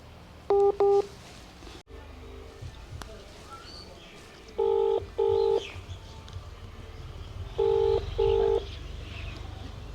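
Phone keypad tones come in three pairs of quick beeps spread across the stretch as a number is dialed, clear and close over a low steady room hum.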